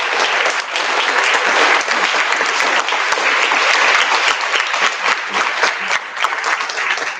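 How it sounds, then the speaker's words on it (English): Loud, sustained applause from the audience at a 2024 science and engineering fair awards ceremony, dense clapping filling the hall steadily for several seconds. "We want to give everybody a round of applause for you."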